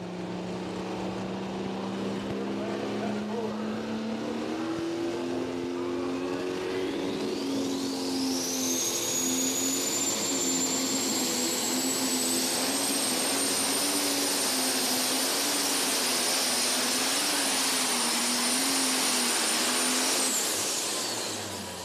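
A super stock diesel pulling tractor roars at a tractor pull, its engine note climbing steadily as a shrill turbo whine rises and holds for about twenty seconds, loud and sustained without any talk.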